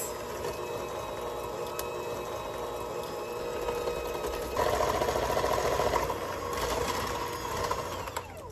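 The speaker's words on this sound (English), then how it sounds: "Using an electric hand mixer, start mixing until light and creamy." Electric hand mixer beating butter and sugar with eggs in a bowl, a steady close motor whine that gets louder and rougher partway through as the mixture thickens, with no talking.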